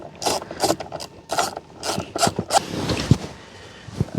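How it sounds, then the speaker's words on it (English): A ratchet with an E6 socket removes a bolt on a Chevy Trailblazer steering column, giving a close series of quick clicking ratchet bursts in an uneven back-and-forth rhythm, with a single sharper knock near the end. "Get yourself the E6 socket. I think it's an E6. It's working right now. And just remove it."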